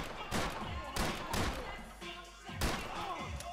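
Several booming gunshots in the video game Max Payne 3, in the favelas level, go off in quick succession, loud and reverberant like game audio, with a voice speaking between them.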